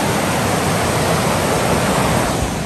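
A river runs beside a campsite, its flowing water a dense, steady rush that fills the whole short stretch, close and loud with no voices.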